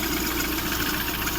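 A 16-valve Lada Priora with the 126 engine idles with a suspected rubbing noise near the timing belt: a steady, close, even mechanical hum that holds without pause.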